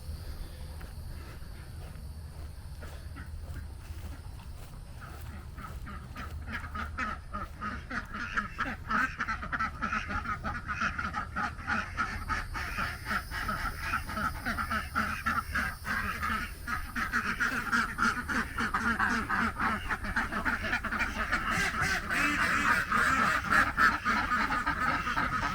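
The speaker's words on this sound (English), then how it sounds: "Female ducks can out yell anything on a small property." A flock of female ducks on a small homestead quacks loudly and continuously, a dense chorus of harsh calls that grows louder over time, with no talking.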